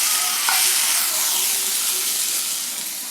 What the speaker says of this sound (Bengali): বেগুনগুলো ভাজা ভাজা হয়ে গেছে, সঙ্গে ক্যাপসিকামগুলো আরও ভালোভাবে ভাজা হয়ে গেছে।